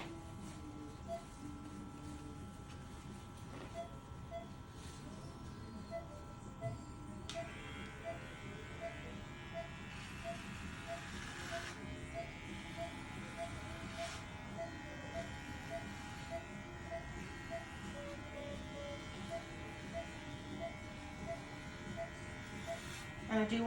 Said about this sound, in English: We'll go ahead and shave my patient here.